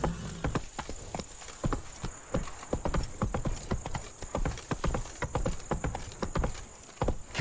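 Roach the horse's hooves clip-clop steadily in The Witcher 3 video game, a brisk even rhythm of hoof strikes under a constant high whine of game ambience.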